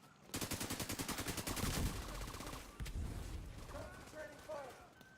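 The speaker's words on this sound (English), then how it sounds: "Taking heavy fire!" Automatic gunfire in The Division 2 combat: a rapid, loud burst of rattling shots that fades into rumbling fire and distant echoes, with game voice callouts near the end.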